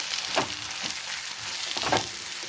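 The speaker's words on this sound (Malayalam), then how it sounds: "കറിവേപ്പിലയും കുറച്ച് തേങ്ങയും ഒരു 3 ടേബിൾ സ്പൂൺ തേങ്ങ വറുത്തിടും കൂടി ഇട്ടിട്ട് നല്ലതുപോലെ വറുക്കണം" Grated coconut and curry leaves frying in a pan, a continuous close sizzle broken by a few soft stirring scrapes.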